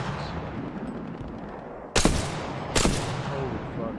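Gunfire in Call of Duty: Modern Warfare 2, two sharp loud shots about a second apart cutting through a busy background of game noise.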